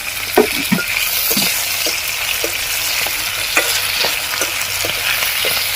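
Tomatoes cook down in hot oil, giving a close, constant sizzle marked by repeated clinks and scrapes of a spoon stirring through the pan, with no speech.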